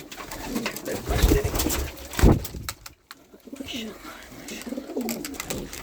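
Pigeons coo softly and repeatedly inside a coop with their chicks, close by, with rustling movement and a brief pause in the middle, and someone speaks quietly at moments.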